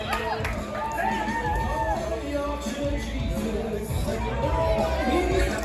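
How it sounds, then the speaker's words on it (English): Crowd at a Blackheart Wrestling show sings along with a wrestler's entrance theme, many voices rising in a loose chant over the arena music, with a commentator talking over it. "You can hear the crowd singing along with Gung-Ho Mutley's theme song"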